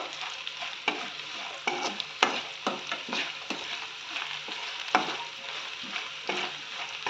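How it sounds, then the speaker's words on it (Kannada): Roasted gram (hurigadale) frying in a pan for poha chivda, a continuous sizzle broken by frequent sharp scraping and stirring clicks at an irregular rhythm; no speech. "ಹುರ್ಕಡಲೆ ತೊಗೊಂಡಿದ್ದೀನಿ. ಚೆನ್ನಾಗಿ ಫ್ರೈ ಮಾಡ್ಕೋಬೇಕು."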